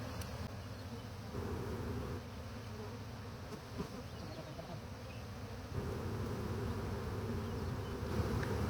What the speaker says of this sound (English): It is a huge swarm.